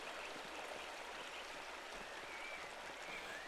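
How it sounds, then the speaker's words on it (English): A waterfall in the video game Pentiment gives a steady, soft rushing of falling water, a constant even wash with no other sounds over it. "I like the sound of the waterfall."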